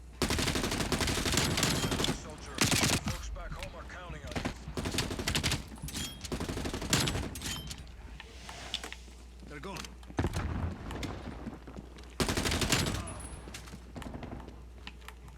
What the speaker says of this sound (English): There's a lot of recoil on this gun right now.